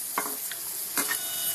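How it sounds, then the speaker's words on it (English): Eggs and okra fry in plenty of oil in a pan, a steady close hiss of sizzling with a few brief crackles and stirring scrapes, no voices. "See how they're frying."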